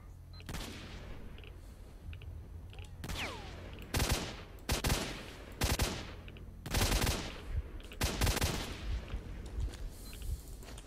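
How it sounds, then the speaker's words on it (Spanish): Gunfire in S.T.A.L.K.E.R.: Shadow of Chernobyl, several sharp loud shots and short bursts spaced apart, with a voice speaking in between. "Alguien me ha disparado."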